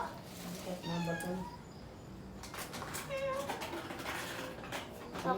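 A cat meows a few times, short drawn-out cries close by, while people talk outdoors in Tagalog on a trip to a cemetery.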